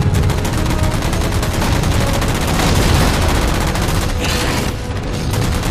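Dense, continuous automatic gunfire in Halo 4, loud and close, as jammers are shot down, with booming impacts mixed into the steady barrage.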